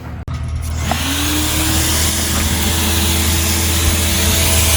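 A truck engine drones steadily as the vehicle is driven off to clear space in a garage where cars are checked underneath for salt corrosion, a loud, continuous hum after a sharp click at the start.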